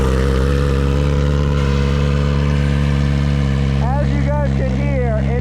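A BMW S1000RR motorcycle with a straight-piped exhaust and no muffler, cold-started and idling loudly and close, a steady deep rumble with a brief rise in revs near the end.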